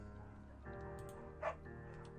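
A beagle in the video game Firewatch gives a faint, brief yip over a low, steady background of game music.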